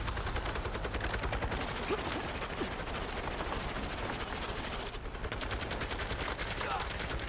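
Dense rapid automatic gunfire in a video game, a continuous rattling burst of closely spaced shots that runs almost unbroken, loud and near, with a short dip around the five-second mark.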